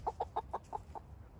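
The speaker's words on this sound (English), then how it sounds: "rooster" A rooster gives a quick series of six short, evenly spaced clucking calls, close and moderately loud, fading out within a second and a half.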